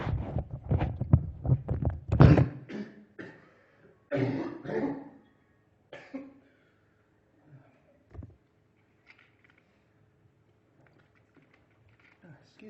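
A person coughs and clears their throat a few times up close, followed by faint scattered clicks and near silence.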